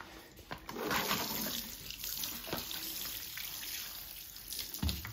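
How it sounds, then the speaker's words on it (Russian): A water tap runs in a steady, splashing stream that pours onto a cat, with a few louder splashes and a soft thump at the end. "Если Марсик не идет к воде, то вода идет к Марсику."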